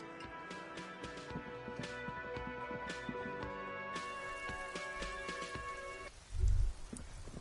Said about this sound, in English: All around you, rain falls on the great city of Rivershaw. Rain drips from the eaves and floods the gutters